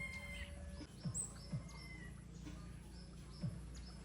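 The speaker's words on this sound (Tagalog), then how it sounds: "Naririnig nyo ba? Yung huni." A wild bird sings outdoors with faint, high, scattered whistles and chirps over a low steady background hum, distant and soft.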